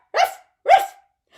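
A human voice imitates a dog barking, giving two clear, close "ruff" barks a half second apart, with the start of a third just cut off at the end.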